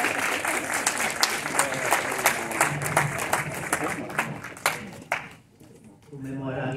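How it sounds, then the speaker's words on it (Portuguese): Applause from a film festival audience in Brazil, sharp crisp claps that are loud and fairly close, with crowd voices mixed in, then fading near the end as a voice returns. "Uma salva de palmas também."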